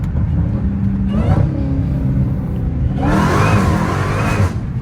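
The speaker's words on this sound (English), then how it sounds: "Those are the downshifts." Dodge Challenger Hellcat Redeye with catless mid pipes, its supercharged engine roaring loud and close through repeated downshifts, revs rising and falling with a steady whine and deep rumble throughout.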